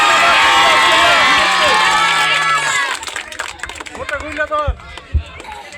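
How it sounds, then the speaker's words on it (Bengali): A crowd at a local sports event breaks into loud applause, a dense wash of clapping and cheering that abruptly gives way to scattered individual claps and voices. "সকলে চান্দাছের জন্য জোরে একটা হাততালি"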